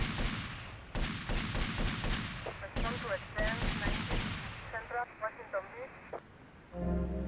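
Gunfire in Grand Theft Auto Vice City Definitive Edition: a run of sharp, loud shots in quick irregular bursts, with game sounds and short electronic tones between them and a low rumble near the end.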